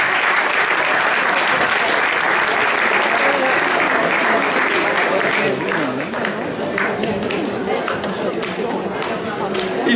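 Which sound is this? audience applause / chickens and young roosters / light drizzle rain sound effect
audience applause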